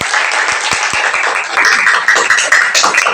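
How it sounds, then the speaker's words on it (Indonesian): Students in a classroom give a loud round of applause for a presenting group, brisk dense clapping close by with a few distinct sharp claps and faint voices. "Beri tepuk tangan."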